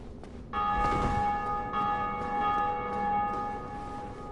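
A large bell in Dark Souls Remastered rings out with a clear struck tone, sounding twice in quick succession with a sustained, gradually fading ring.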